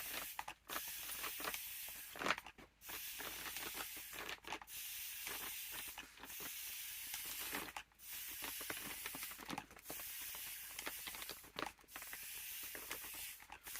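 Water sprays onto book pages in steady, faint hissing bursts, each lasting a few seconds, broken by brief gaps and light rattling handling noise.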